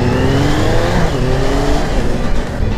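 A Suzuki Bandit 600 motorcycle on a night ride, its engine revving loud and close in a continuous rising drone, with wind rush over it and no talk.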